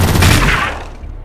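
A single loud gunshot bursts in a Xenonauts 2 tactical battle, a close crossfire shot with a brief rattling blast that quickly fades out.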